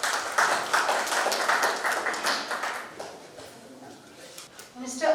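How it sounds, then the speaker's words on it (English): Audience clapping at a corporate CSR partnership conclave, a dense patter of handclaps for about three seconds that thins out and fades, with a faint voice near the end. "let's welcome all with a round of applause"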